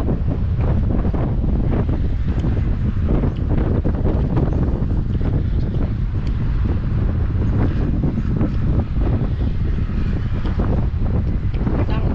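Strong wind buffets the microphone in a constant rough roar, with a faint wash of water or surf beneath it and no clear voices.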